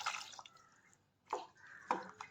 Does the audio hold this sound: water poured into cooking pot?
yes